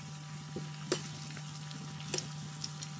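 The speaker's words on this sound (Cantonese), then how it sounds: "每邊再炸大概15秒" Chicken spring rolls deep frying in hot oil, a faint steady sizzle with a low hum and a few brief crackles and clicks, quiet and close.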